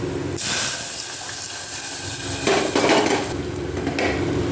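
Water poured into a hot pan of garlic and spices fried red for kalai dal, hitting with a loud sizzling hiss that swells and continues steadily throughout.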